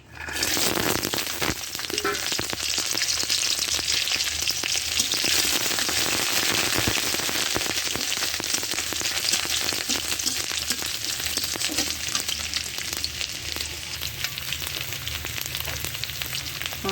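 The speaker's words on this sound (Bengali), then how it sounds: "তেল গরম হয়ে গেছে, এবার আমি রসুন দেব আর একটা শুকনা মরিচ এই দিলাম।" Garlic and a dried red chili frying in hot oil, a loud, steady crackling sizzle that runs unbroken and close for the whole stretch, with no talk over it.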